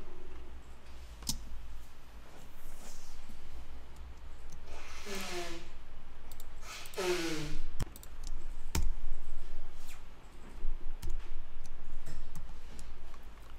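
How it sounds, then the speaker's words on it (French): Sharp, isolated computer mouse clicks sound at irregular intervals over quiet room noise, with a couple of short breathy swishes between them. "Donc clic, majuscule clic, voilà, etc."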